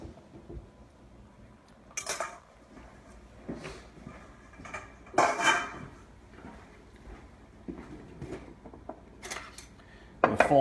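Muffin batter of meat, vegetables and egg folded in a bowl, soft scraping and stirring punctuated by a few sharp clinks of utensil against the bowl, fairly close and alone.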